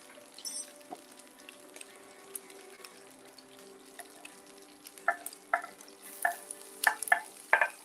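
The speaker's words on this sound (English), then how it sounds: "Garlic and ginger going in. Cook for about 2 minutes." Garlic and ginger cooking in a pan for chili garlic noodles: a quiet sizzle under light stirring and scraping, with utensil clinks growing busier toward the end.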